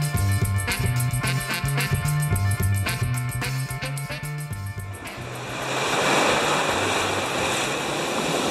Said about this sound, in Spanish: Mirá que olas.